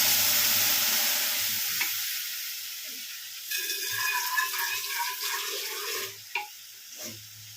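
Dal tipped into a hot pan on a lowered flame hisses and sizzles steadily, with scraping stir strokes and soft clinks breaking through the frying noise toward the end.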